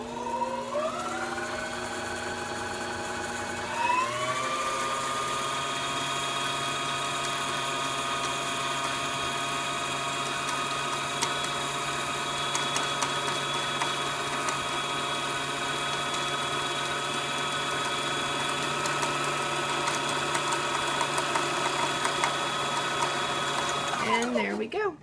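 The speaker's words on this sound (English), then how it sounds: "as the bobbin starts getting full, it's going to start getting a lot slower to begin with" A sewing machine winds a bobbin: a steady high motor whine that rises in pitch after a few seconds, holds there for about twenty seconds, then winds down at the end. A voice talks faintly over it.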